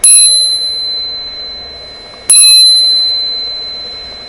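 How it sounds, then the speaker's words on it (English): A bicycle bell is struck twice, each bright metallic ding ringing out with a long, slowly decaying resonance, loud and close with nothing else around it. "The ring of the bell resonates a lot longer as well as compared to the Rockbros."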